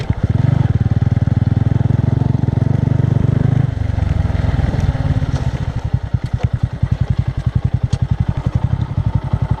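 A Bajaj Boxer 150 motorcycle riding off-road through a forest, its engine running loud and close with a steady throbbing beat that slows toward a rough, pulsing idle.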